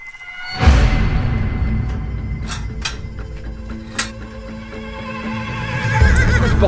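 Ranch horses whinny loudly and close by, one long neigh rising early and another near the end, with hooves shifting and clopping in between.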